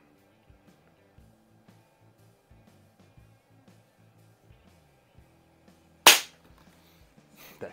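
A Daisy 753 single-stroke pneumatic .177 target rifle fires one sharp, loud shot near the end, after quieter faint clicks and handling noises.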